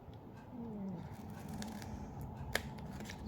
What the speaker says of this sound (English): So I quite often cut my dimensionals half like that so I can use different sections.